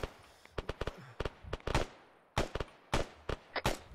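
Sharp gunfire from the Arma 3 military game: a rapid series of separate cracking shots, some in quick pairs, loud and close, with short quiet gaps between bursts and no talking.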